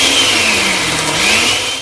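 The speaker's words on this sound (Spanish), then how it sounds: "Luego, dentro de casa, escucharon a mamá licuando" An electric blender runs steadily in a home kitchen, a continuous motor whine with a slight wavering pitch, loud and close, with no voices.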